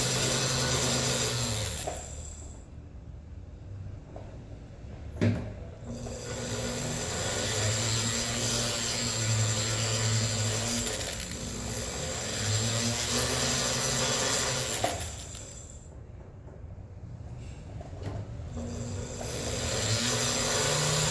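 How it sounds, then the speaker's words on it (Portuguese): Sandpaper rubs around the outside of a jeweller's ring seated on a mandrel, a steady gritty scraping in long back-and-forth strokes with brief pauses between passes. "Passando a lixa por fora, vou aproveitar o próprio mandril"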